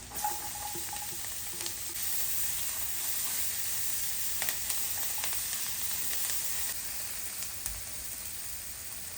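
Chopped garlic and onion fry in a pan, a steady close sizzle and hiss that runs unbroken, with a few faint stirring clicks.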